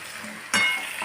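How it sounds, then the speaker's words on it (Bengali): Poppy seed paste frying in a pan, a soft sizzle that jumps louder for a moment as it is stirred, brief and close. "ভালোভাবে ভেজে নিতে হচ্ছে।"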